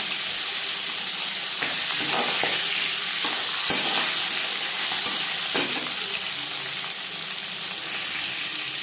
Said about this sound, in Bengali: তিন চামচ সর্ষার তেল গরম করে নেওয়ার পর দিয়ে দিলাম লবণ হলুদ মেখে রাখা মাছ